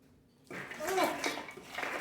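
Sweet tea pours and splashes over ice for about a second and a half, with faint clinks of ice, after a short quiet start.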